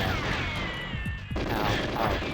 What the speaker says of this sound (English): Oh gosh, the explosions.